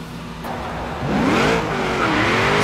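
A '57 Chevy Bel Air tuned to nearly 800 horsepower revs hard in a racing video game, its engine note rising and swooping up through the gears, loud and continuous with no talk.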